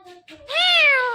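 A talking parrot imitates a cat's meow: a few short chirpy notes, then one drawn-out, rising-and-falling mew, loud and close.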